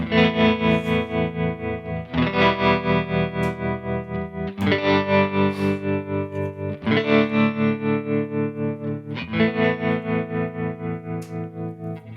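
Electric guitar chords through a Kemper Profiler bias tremolo that mimics old Fender power-tube vibrato, played loud and alone, with a steady pulsing throb in volume under each held, distorted chord struck every couple of seconds.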